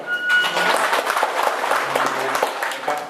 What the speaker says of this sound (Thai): ขอให้พวกเราทุกคนปรบมือให้กับ ลูกศิษย์ของเรา